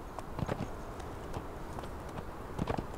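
A horse's hooves clip-clop at a steady walking pace in the Conan Exiles video game, a light repeated thudding over a constant wind-like background.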